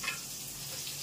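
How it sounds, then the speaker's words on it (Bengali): Brinjal slices and luchi fry in hot oil, giving a faint, steady sizzle that holds evenly throughout with no one speaking. "এদিকে বেগুন ভাজা হচ্ছে,"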